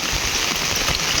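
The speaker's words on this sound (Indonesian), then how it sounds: "itu hujan dari jam 1 siang sampai sekarang masih terus-terusan ya hujan" Steady rain falls over a countryside village near rice paddies after hours of downpour, a dense, even hiss of drops on surfaces with no let-up and no voices.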